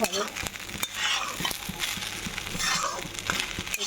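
Biryani rice with biryani masala being stirred in a kadai, with close, steady sizzling and repeated scraping and clinking strokes of the spoon against the pan, and no talk.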